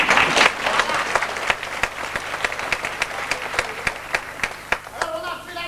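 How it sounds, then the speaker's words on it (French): Audience applause in a theatre during a performance of Louis Ganne's operetta Les Saltimbanques, dense steady clapping at close range with sharp individual claps standing out, fading toward the end as a voice begins speaking. "tu peux l'applaudir aussi"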